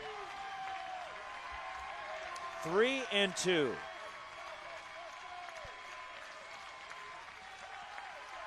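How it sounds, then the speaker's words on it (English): A crowd at a Stanford college baseball regional game breaks into a short burst of applause and cheering, rising for about a second over the steady ballpark murmur while a commentator talks. "Stanford crowd trying to get into it."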